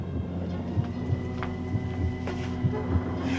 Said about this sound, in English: The heartbeat. You've heard it too?